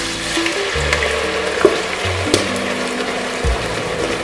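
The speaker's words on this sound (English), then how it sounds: "So we started off with some oil in the pan, just waiting for that to heat up. I'm about to add my onions in." Onions fry in hot oil in a pan with a close, steady sizzle, and clattering knocks of a utensil and low thuds sound against the cookware.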